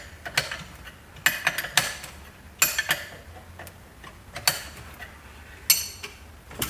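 Repeated ratcheting clicks and creaks from a jack being let down beneath a Harley Davidson Heritage motorcycle during a front fork rebuild, coming in irregular close bursts with quiet gaps between them.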